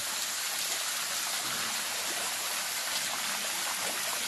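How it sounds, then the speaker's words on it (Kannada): Water overflows from a tank and runs off in a continuous, dense rushing wash. The sound stays steady and close, with no voices. "ನೀರು ನೋಡಿ ಎಷ್ಟು ಹರಿತಿದೆ ಎಷ್ಟು ಪೋಲ್ ಆಗ್ತಿದೆ ನೋಡಿ ನೀರು"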